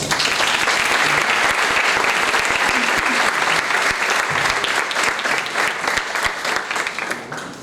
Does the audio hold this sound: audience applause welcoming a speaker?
yes